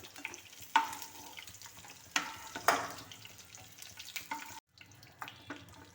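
Eggplant sautéing in a pan gives a low, steady sizzle, broken by a few louder scraping stirs and a short pause, quiet and near.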